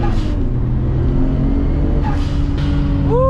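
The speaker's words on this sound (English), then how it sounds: "All right, this will be max boost pull. I'll start in second gear." A 500 hp Nissan Skyline GTR pulls hard at max boost from second gear, its engine roaring loud and close with rising harmonic tones and a couple of quick shift-like sweeps.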